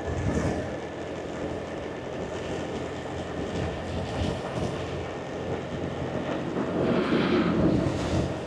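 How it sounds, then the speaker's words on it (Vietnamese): Strong wind blows right at the edge of the sea beside Vietnam's QL29 coastal road near Tuy Hoa, a steady, loud, broad roar buffeting the microphone, swelling slightly near the end. "Gió ở đây cũng đang khá là mạnh, tại vì ở ngay sát rìa biển luôn."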